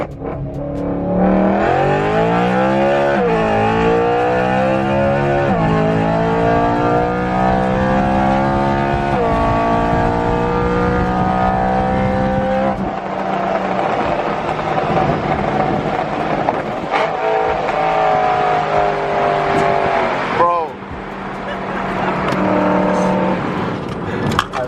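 A BMW E92 M3 with a newly installed loud open exhaust revs repeatedly, its engine note sweeping up and falling back in long, aggressive pulls, harsh and close, with short gaps between blips.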